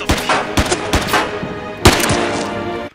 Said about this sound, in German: er schießt auf mich.